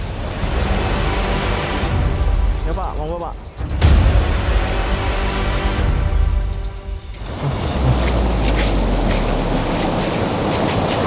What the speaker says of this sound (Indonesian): Ombak di kawasan ini sangat besar, antara 1 hingga 2 meter tingginya.